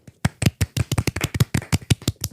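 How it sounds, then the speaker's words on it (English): A few people give a soft, quiet golf clap in a podcast studio, about a dozen light, evenly spaced claps over two seconds. "Golf clap, golf clap."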